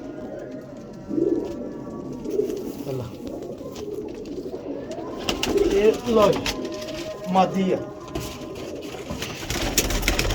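Pigeons coo softly in a loft among birds being handled, with low murmuring calls and fluttering scattered through, while people talk over them.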